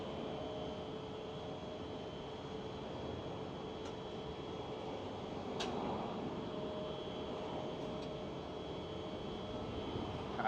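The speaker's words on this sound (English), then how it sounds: "an EasyJet rolling on runway 18 left right now" An EasyJet airliner rolls for takeoff on runway 18 left at Amsterdam Schiphol, a steady, distant broadband engine roar that holds constant throughout without voices.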